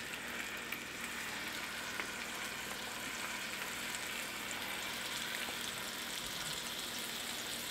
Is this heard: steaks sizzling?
yes